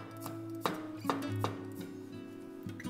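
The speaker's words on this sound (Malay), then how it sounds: "potong bawang putih" Garlic gets chopped with a knife on a board, four sharp strikes close by over a steady low kitchen hum, with no talking.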